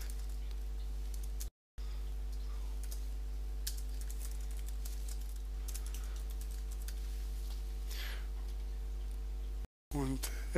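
Typing on a computer keyboard while filling out a Google Docs form, with soft irregular key clicks over a steady low hum; the sound cuts out briefly twice.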